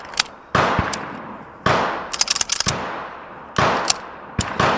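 Three separate shots from a Tisas PX-9 Tactical Comp, a compensated 9mm pistol, fired outdoors: loud sharp cracks roughly a second apart, each followed by a decaying echo, with a quick flurry of clinks between the first two.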